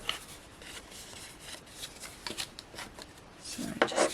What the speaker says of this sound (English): So just giving these all a good burnish down.